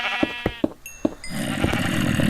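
Blocky Minecraft sheep give a few short bleats in quick succession, close and clear, followed by a steady mechanical hum from the video game world.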